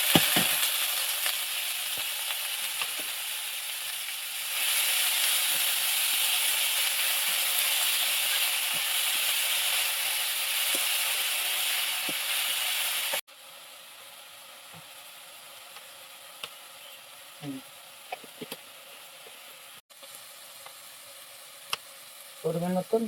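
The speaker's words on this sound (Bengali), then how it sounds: "এবার আমি কলা মোচাটা দিয়ে দিচ্ছি।" Banana blossom hitting a hot oiled pan, with a loud steady sizzle that cuts to a quieter simmer partway through and scattered stirring clicks.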